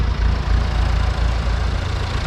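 A tractor engine idles steadily close by on a farm, a continuous low rumble with a slightly uneven, knocking pulse and no voices.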